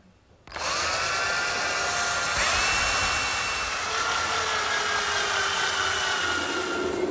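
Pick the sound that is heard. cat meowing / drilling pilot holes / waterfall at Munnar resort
drilling pilot holes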